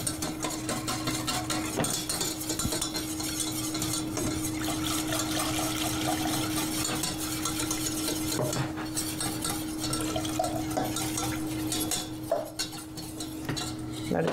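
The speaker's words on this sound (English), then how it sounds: "You add your milk." Milk poured into a cooked flour roux for a mac and cheese sauce, giving a steady liquid wash with spoon-against-pot clinks and stirring scrapes throughout, close and fairly loud.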